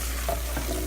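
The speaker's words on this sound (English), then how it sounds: "So we'll now cook this masala until the oil separates." Masala with dry spices, salt, paprika and turmeric sizzles and fries in oil, a brief soft crackle with a light stir scrape.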